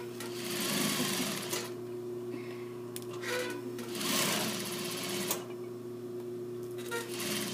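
A sewing machine runs steadily while sewing a back stitch on garment construction, its motor hum continuous and close with brief pauses and speed changes, no talk over it.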